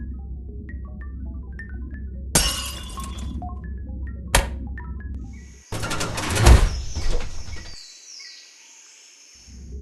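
A glass panel smashes inside a spaceship airlock in the game The Abandoned Planet, with two sharp breaking bursts and a longer shattering crash, then a sliding mechanical sweep, all over a low ambient hum and soft chirping tones.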